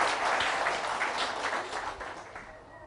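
An audience applauds in a hall honouring a singer, a dense, steady wash of clapping that slowly fades over a few seconds.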